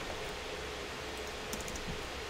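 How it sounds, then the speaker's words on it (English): Typing on a computer keyboard, soft rapid key clicks running steadily under a hiss of background noise, close and fairly quiet, with no talking. "Why am I typing in Chinese?"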